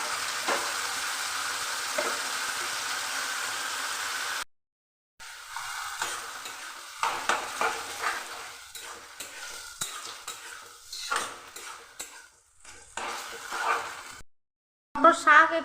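Boiled pea greens stir-frying in mustard oil alongside brinjal, giving a steady close sizzle broken by scraping and clinking stirs, with two short silent gaps and a final burst of louder stirring.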